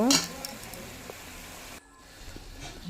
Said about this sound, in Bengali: তো আমি এখন মশলাটা একটু ভেজে নেব।